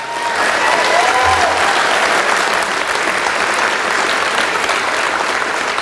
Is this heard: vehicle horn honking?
no